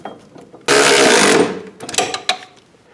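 Ratcheting bolts tight on a rear sway bar install for a 1970-1981 Camaro/Firebird, a loud burst of rapid ratchet clicks lasting under a second, followed by a few sharper metallic clinks and taps.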